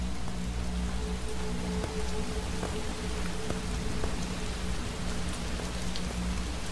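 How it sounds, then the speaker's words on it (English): Steady rain pours in the video game Shadows Peak, a continuous dense hiss with scattered drops tapping close by and no talking. "It's raining now."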